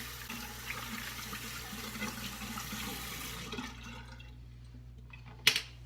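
Tap water runs steadily while a razor is rinsed, a continuous splashing flow that fades out near the end before a brief sharp clatter.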